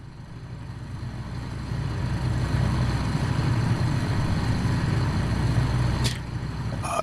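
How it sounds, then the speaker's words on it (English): A Ford Trimotor's engines drone in a flight simulator, a steady buzzing rumble that swells louder after the first couple of seconds and then holds even, with a brief click near the end. "I think the engine sounds are pretty good."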